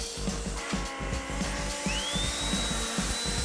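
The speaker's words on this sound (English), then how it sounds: "It's just an orbital sander, and it hooks up to the HEPA vac as well, and this creates a nice flat surface" An orbital sander connected to a HEPA vacuum works a window frame with a steady droning buzz and a rapid rhythmic knocking throughout.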